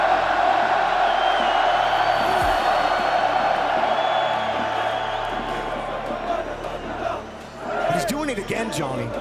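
Large arena crowd at a Rocket League RLCS Paris Major playoff event roars and cheers in a steady wash, with shouts and whoops rising near the end and commentator-like voices mixed in.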